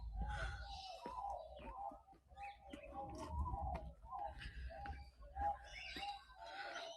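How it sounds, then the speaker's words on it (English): Pigeons coo repeatedly in a park aviary, with soft rhythmic low calls overlapping throughout alongside some higher chirps, fairly close and steady. "I can't hear anything but pigeons in there."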